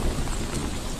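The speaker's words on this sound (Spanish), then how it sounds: "La lluvia torrencial empapa a los monos y al equipo de grabación." Heavy, dense monsoon rain pours down in the Himalayas in a steady, roaring wash, loud and close with no break.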